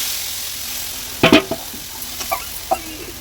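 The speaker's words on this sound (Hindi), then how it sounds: "अब इसको लगातार चलाते रहेंगे।" Besan-buttermilk kadhi being stirred in a pan, a low steady sizzle under a few sharp scraping clinks of the spoon against the pan, close and without talk.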